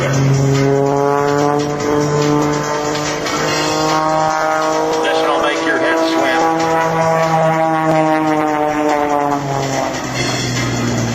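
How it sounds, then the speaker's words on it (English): An Extra 300 aerobatic airplane at an air force base open house air show tumbles end over end with a loud, steady propeller and engine drone. The pitch wavers with the throttle and the airplane's motion while an announcer talks over it. "Now, listen as she adds power, lets the prop and the engine keep that airplane turning as she backs it down and then falls through."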